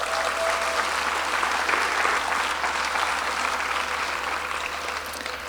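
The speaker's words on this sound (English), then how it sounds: "Let's have a round of applause." Audience applause at a political forum held in a venue, a steady dense clapping throughout that eases off slightly toward the end, with a low hum underneath.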